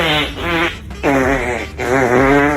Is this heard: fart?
yes